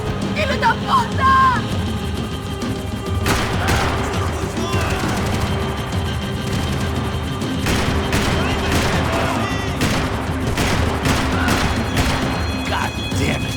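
Bursts of gunfire in Max Payne 3 crackle over a loud, busy action scene, with repeated sharp shots and crashes while voices shout and talk over the din.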